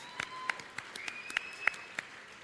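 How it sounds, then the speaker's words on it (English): Sparse, faint clapping from a small audience at a media awards ceremony: a handful of separate claps, roughly evenly spaced over a couple of seconds. "Big round of applause for everybody."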